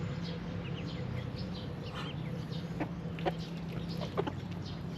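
A backyard hen clucks softly near her chicks, scattered short calls over a steady low hum, fairly faint and somewhat distant.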